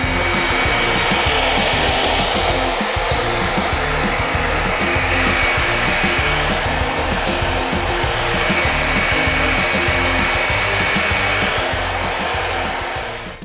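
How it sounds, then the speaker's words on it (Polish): A hair dryer blows steadily and loudly at close range for over ten seconds, drying a handmade craft piece, with no voices over the constant whir. "Praca jest już wysuszona suszarką"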